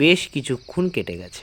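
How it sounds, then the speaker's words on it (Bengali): Crickets chirp steadily through a night scene, a continuous high background trill running beneath a narrator who keeps talking over it. "অবিশ্রাম ঝিঝির ডাক"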